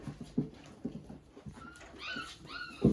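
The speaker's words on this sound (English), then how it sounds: "all these are very well-behaved puppies" Seven-week-old puppies, some curly-coated, whimper and yip nearby with soft pants and small squeaky cries that rise toward the end, close and fairly quiet.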